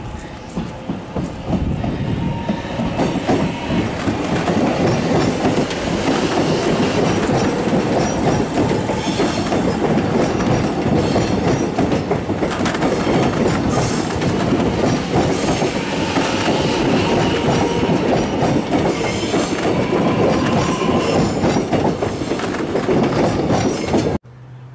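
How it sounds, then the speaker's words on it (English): A train rumbles steadily across the Eltham wooden trestle bridge, wheels clacking rhythmically with occasional high squeals and creaks of the wood under the train's weight, loud and close throughout. "You actually can hear the wood squeaking under the weight of the train."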